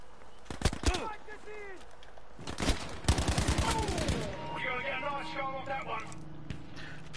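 Battlefield 5 combat with grenade blasts and bursts of gunfire, sharp loud bangs in irregular clusters followed by a rattling volley and lingering rumble, with a voice reacting between them.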